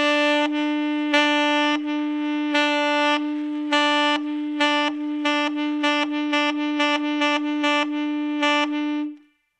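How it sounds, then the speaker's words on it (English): A sustained saxophone note on E, broken into repeated soft-edged half-tongued pulses by light tongue touches, played steadily and close with no talking. "So when you half tongue, it sounds a bit like this. I'll do it on an E."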